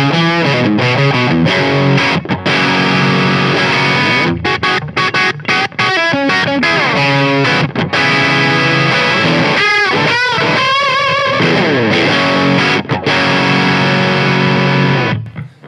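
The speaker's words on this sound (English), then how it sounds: "So now turning the pedal on the overdrive side." Electric guitar through the overdrive side of a Pigtronix Disnortion pedal, giving a warm, fat, vintage-style overdrive: a long, loud, steady riff of crunchy chords and quick stabs that ends with a final fade.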